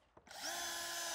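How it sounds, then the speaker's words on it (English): A power drill bores a hole for a roll bar cradle using a jig, spinning up quickly and then holding a loud, steady whine close by. "drill the hole."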